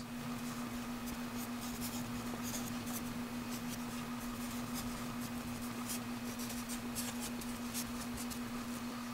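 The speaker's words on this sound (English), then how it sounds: "I'll write these out for you" A pen or marker writes out algebra properties of equality, producing short scratchy strokes in quick bursts over a steady electrical hum, close and fairly faint with no talking.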